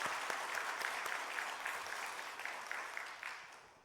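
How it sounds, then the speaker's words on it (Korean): Congregation at a Sunday church service in Gwangju clapping together, a steady crowd applause that holds for several seconds and slowly fades near the end, with no voices over it. "다시 한번 우리 박수 한번 쳐주셔요"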